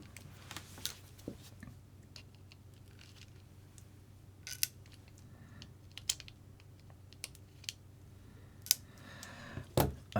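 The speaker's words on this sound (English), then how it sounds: "We should be able to slide all the suspension apart now, and that should move across." Suspension parts on a Losi Micro-B RC car chassis being slid apart, heard as scattered small plastic clicks and light rattles, close up and fairly quiet with no talking.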